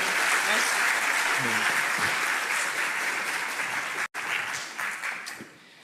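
Applause from the audience at a tech conference talk, a steady wash of clapping that thins and fades out toward the end, with a brief dropout partway through.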